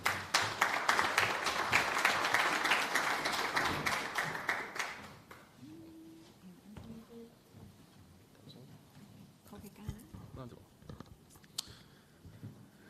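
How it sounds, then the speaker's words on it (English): Applause from an audience at a Central Bank economic conference in Curaçao, loud and dense for about five seconds, then fading to scattered claps and room noise. "Please welcome him with a round of applause."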